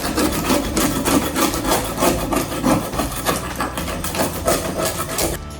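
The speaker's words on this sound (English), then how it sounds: "let's get scraping" Rough, continuous scraping of old paint off an interior room wall, with steady repeated strokes that run close and loud throughout, then stop abruptly at the end.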